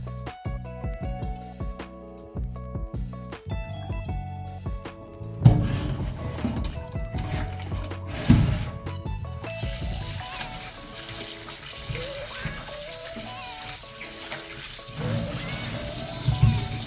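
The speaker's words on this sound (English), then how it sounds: "I just rinse it first with warm water" Raw chicken being rinsed under warm running tap water in a kitchen sink, with a steady stream splashing and trickling, broken by clunks and handling noises, and growing fuller and more splashy in the second half.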